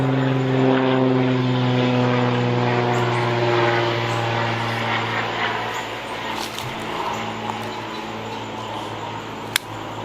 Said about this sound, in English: one more plane coming through.